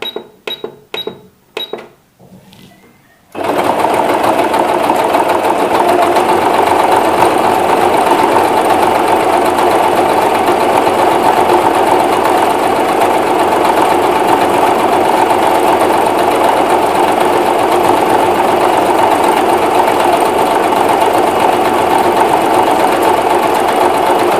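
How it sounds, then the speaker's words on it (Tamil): Sewing machine stitching a continuous embroidery pattern, a few short start-up clicks giving way to a steady, loud mechanical whirr that runs unbroken for over twenty seconds with no talk. "இப்போ வந்து நான் அடுத்த ஸ்டிச் போட போகிறேன். ஸோ இந்த 35 ஸ்டிச் போட போகிறேன்."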